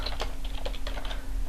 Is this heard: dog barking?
no